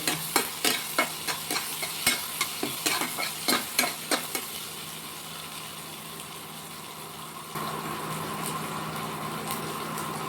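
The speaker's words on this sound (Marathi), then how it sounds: "दोन ते तीन वाळलेल्या मिरच्या टाकायच्या आणि कढीपत्ता टाकायचा आणि चांगलं फ्राय करून घ्यायचं" Dried red chillies and curry leaves hit hot oil for a dal tadka, a series of sharp crackling sizzles and spatters in the first few seconds, then settling into a steady, close frying hiss.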